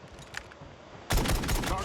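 Gunfire in the mobile shooter game Call of Duty Mobile: a quiet stretch suddenly gives way to a loud, sustained burst of rapid shots that fills the last moments.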